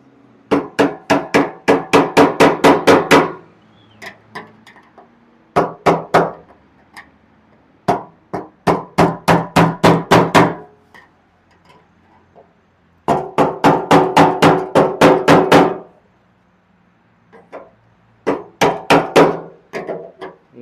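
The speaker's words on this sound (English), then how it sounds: "You think I'd use the hammer, right?" Hammer blows on a part of a Camaro, loud close metallic strikes in quick bursts of around six to ten hits separated by short pauses.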